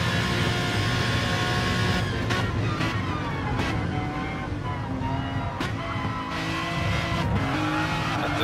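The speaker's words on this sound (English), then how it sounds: "he's chased down the Aston Martin of Nightmare ahead" Aston Martin race car roaring through a race in a driving video game, engine note rising and falling with gear changes and brief tire squeals, loud and continuous throughout.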